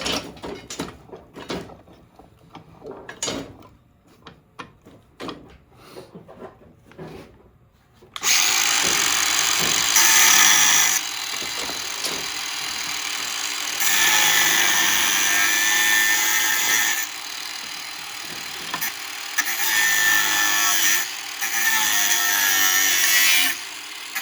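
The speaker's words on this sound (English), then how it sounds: "I'm just going to go ahead and angle grind this because why not?" An angle grinder cuts through an iron piece and screws: a few clanks and handling knocks first, then a loud, close, harsh high-pitched grinding whine that runs in long bursts with short pauses between cuts.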